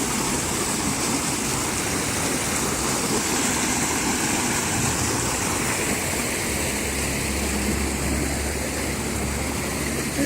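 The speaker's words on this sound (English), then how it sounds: "And this water runs through here." Water streams steadily over stones set in a small stream on the Cherokee reservation in North Carolina, a close, even rushing wash with a faint low hum beneath it and no voices.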